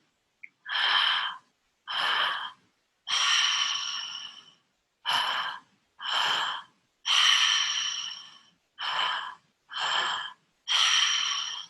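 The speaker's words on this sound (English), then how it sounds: "And I'll make the sound of the breath, but essentially it's an inhale to the belly, a pause, an inhale to the chest, and then an exhale." Breathwork breathing at an Earth Day ceremony, a pattern of an inhale to the belly, a pause, an inhale to the chest, then an exhale, heard as nine breathy bursts close up in a steady tempo with short silences between.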